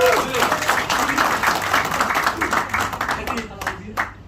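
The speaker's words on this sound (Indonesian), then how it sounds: "Tepuk tangan dulu semuanya." A crowd claps at a Ganjarian community iftar gathering in Jakarta, a busy round of applause mixed with voices and chatter that thins out toward the end.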